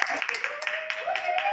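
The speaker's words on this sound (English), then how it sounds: "Let's give Mr. a big clap." Brief clapping from a conference audience after a presentation at an afternoon parallel session, light scattered claps mixed with background murmuring and a voice, short and moderately quiet.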